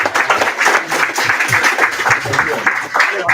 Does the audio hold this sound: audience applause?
yes